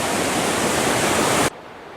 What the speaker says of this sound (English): This is Canyon Creek. Kind of self-explanatory. It is rushing and falling a lot right here.